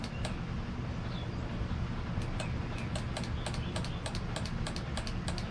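Relays click in a custom VW wiring harness with a switch panel, a run of crisp, close ticks in irregular bursts over a steady low hum.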